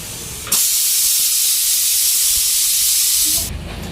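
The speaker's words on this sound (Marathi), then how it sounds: "वाफ चांगली आली आणि आपलं बंदच आहे मैद्याचं भांडं त्याच्यावर झाकण ठेवलेलं आहे" Steam hisses loudly and steadily for about three seconds from a covered pot of flour on a stove, a close, bright, continuous rush that starts and stops abruptly.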